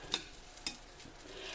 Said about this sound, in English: You hear that bubbling and that sizzling?